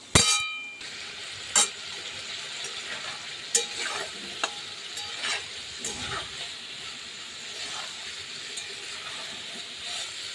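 Taro with cumin powder and green chilli sautéed in a pan: a sharp metal clang at the start, then a low steady sizzle with scattered spatula scrapes and taps against the pan.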